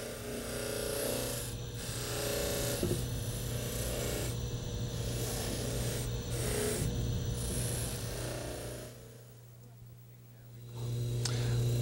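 A removable partial denture clasp is polished against a rotating rag wheel on a dental laboratory lathe. A steady motor hum runs throughout with rubbing, rasping friction over it, and it briefly quiets near the end before resuming.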